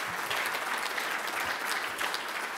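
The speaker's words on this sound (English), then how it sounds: "Applause for Anna, please." Steady audience applause at a civil service quiz event, continuous clapping from a crowd filling the room at moderate level, no voices over it.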